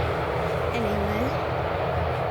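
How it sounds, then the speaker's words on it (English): A Ryanair airliner arriving from Berlin comes in to land at Manchester Airport early in the morning, its engine noise a steady moderate rumble with a faint shifting whine, while a person talks over it. "it's just a Ryanair coming in now. It's come from Berlin."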